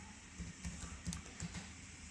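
Light, irregular keystrokes tapping on a computer keyboard while typing a console command, close and fairly quiet against a faint background hum.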